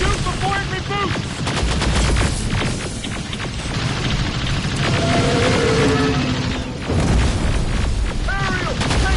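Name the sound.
gunfire in video game Terminator Resistance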